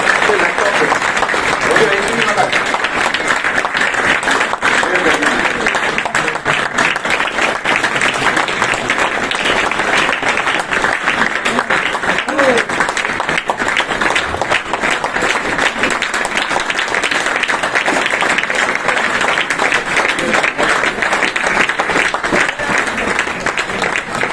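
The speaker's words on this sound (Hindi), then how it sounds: "तालियां जोरदार बजा सकते हो?" A large audience at a stage event claps loudly and continuously to welcome a leader onto the stage. The dense applause is sustained and even, with some crowd voices mixed in.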